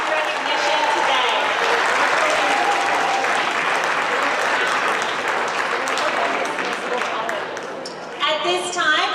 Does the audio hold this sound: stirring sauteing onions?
no